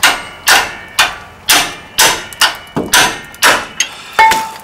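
Hammer blows on brake parts during a rear brake pad replacement on a 2013 Ford E-350, about ten sharp, loud metallic strikes in an uneven rhythm, with a brief ringing ping near the end.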